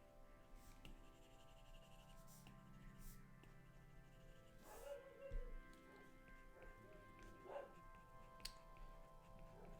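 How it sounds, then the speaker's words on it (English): A dog barks a few times in the background, faint and intermittent, with isolated yips among quiet indoor room noise. "Can you hear my dog?"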